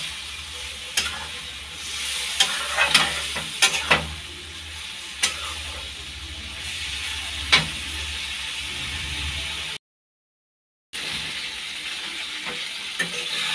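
Soybean chunks, already salted and spiced, are sautéed and stirred in a pan: a soft continuous sizzle broken by sharp spatula scrapes and clinks, with a brief silent gap before the stirring resumes.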